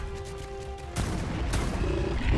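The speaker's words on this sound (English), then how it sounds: "Let's switch back to our fabricated sniper rifle here and just keep shooting it." Heavy gunfire from a fabricated sniper rifle in ARK: The Island, with two loud booming shots about half a second apart over a dense, roaring game soundscape.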